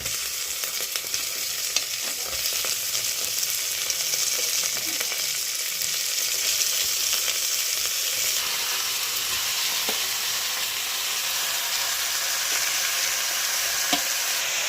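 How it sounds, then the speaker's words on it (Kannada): Chicken frying in oil in a cooker for a chicken sambar, a steady loud sizzle with occasional stirring scrapes and clinks throughout, no talking. "ಹುರ್ಕೊಂಡಿರೋ ಚಿಕನ್ನ ಇದಕ್ಕೆ ಹಾಕೊಳ್ಳೋಣ"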